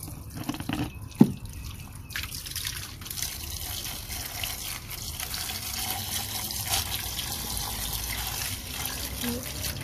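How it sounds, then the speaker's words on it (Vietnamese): Water is poured onto a potted gourd plant on a rooftop, trickling and dripping steadily into the soil after an early sharp knock, with faint background noise throughout. "Mỗi ngày tưới đều cho nước vô."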